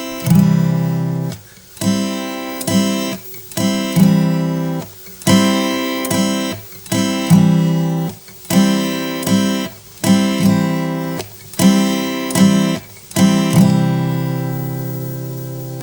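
Acoustic guitar played with a pick in a down, mute, up strumming pattern, loud and close, with ringing chord strums broken by short percussive muted hits in a steady repeating rhythm and no voice.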